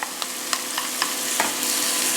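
Chopped onion frying in rendered prosciutto fat in a pan, a steady broadband sizzle with a few sharp clicks of a utensil stirring against the pan, close and fairly loud, with no talking.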